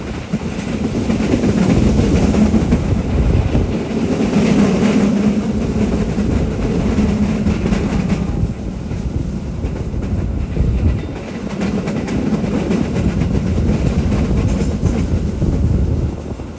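Jaka Tingkir express passenger train rolling along the rails toward Purwokerto station, a steady loud rumble and rattle of the carriage heard from inside, continuous and even throughout.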